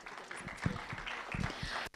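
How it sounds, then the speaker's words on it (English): An audience claps at a tech week event in Nairobi. The applause is brief and fairly light, with scattered hand claps at moderate distance that end abruptly. "Your claps should be getting stronger."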